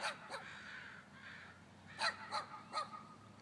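Crows in a flock fighting over a tree, giving harsh repeated caws in uneven bursts, several overlapping calls at mid distance over a quiet background.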